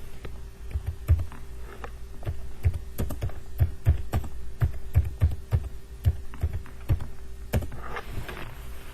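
Typing credits text on a computer keyboard, with close, uneven keystrokes tapping in irregular runs over a low steady hum.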